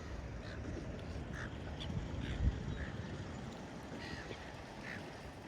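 Seabirds, duck- or goose-like, call in short scattered honks at a boat ramp where fishermen clean their catch, heard at a moderate distance over a steady low wash of water and wind.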